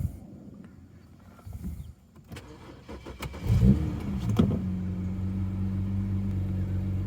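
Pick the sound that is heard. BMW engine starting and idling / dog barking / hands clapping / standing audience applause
BMW engine starting and idling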